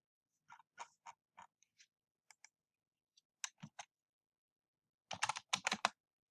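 Keys clack on a computer keyboard in short uneven bursts, a few isolated taps and then a quicker flurry near the end, close and fairly quiet with no talking.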